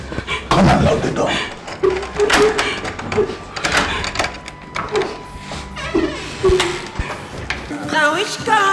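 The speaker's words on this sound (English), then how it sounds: "Come and lock the door." Several sharp door thuds and knocks ring out amid a busy, noisy room with voices talking over them.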